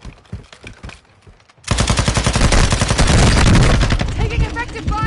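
Loud, close automatic gunfire erupts suddenly in Call of Duty: Warzone, a rapid sustained stream of shots, after a quieter stretch with brief voices.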